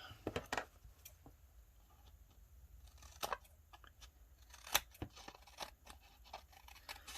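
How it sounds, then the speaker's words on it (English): Scissors cutting paper ephemera for a craft project, a scattering of quiet crisp snips and paper rustles at irregular intervals, close and faint. "we certainly don't need to take up time watching me cut ephemera"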